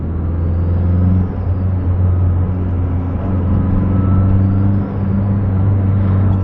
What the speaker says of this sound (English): guys can hear the boost building